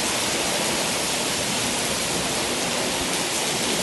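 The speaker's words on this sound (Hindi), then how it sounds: "लाहौर में इस वक्त बड़े ज़ोर की बारिश हो रही है," Heavy downpour with wind in Lahore, a dense steady roar of rain filling the whole clip without pause, loud and close, with no voices.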